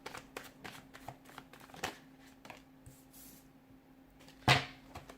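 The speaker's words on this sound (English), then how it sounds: "give the cards a shuffle" Tarot cards are shuffled close by in a soft run of riffling and flicking, with one louder slap of the deck near the end and no voices.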